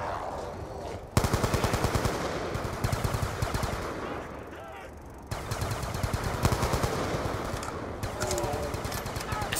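Rapid automatic gunfire in a zombies video game rattles out in loud, sustained bursts, broken by a brief lull before another long volley.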